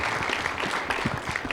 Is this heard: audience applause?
yes